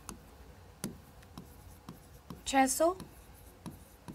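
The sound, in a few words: writing numbers by hand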